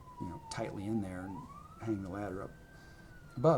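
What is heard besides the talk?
siren passing outside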